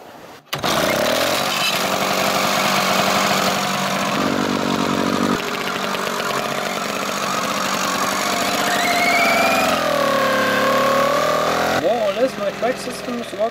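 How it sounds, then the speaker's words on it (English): A small engine in an M16 halftrack scale model runs steadily and loudly for most of the clip, its pitch shifting and rising near the end before dropping off, close to the microphone. "Suddenly the engine was running with ease."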